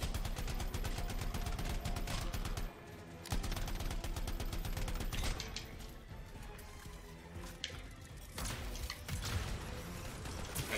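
Dense, rapid gunfire from the video game Anthem: loud, overlapping bursts of shots that roll almost continuously, with a brief lull partway through before the firing picks up again.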